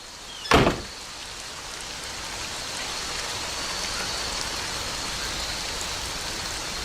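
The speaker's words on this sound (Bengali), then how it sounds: "বৃষ্টি কমতে শুরু করেছে।" Steady rain falls outside a home during a rural storm, an even hiss continuing throughout after a single sharp knock or bang near the start.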